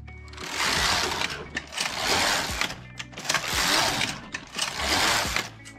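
A Passap E6000 knitting machine carriage slides back and forth across the needle bed in four long, even swooshing passes, a loud close-up whirring rasp with brief pauses between strokes and no talk.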